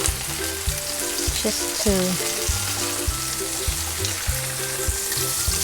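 Salmon fillet cooking in butter in a hot pan after being flipped, giving a steady close sizzle with some clinks and scraping from the pan, and a brief voice over it.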